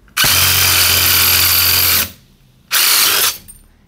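A DeWalt shear attachment driven by an impact driver cuts sheet metal with a loud, steady, high mechanical whir. It runs for almost two seconds, stops, then runs again for a shorter burst, close up and with no talk.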